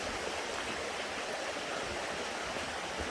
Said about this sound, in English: we're going to wade on down this creek just a little ways.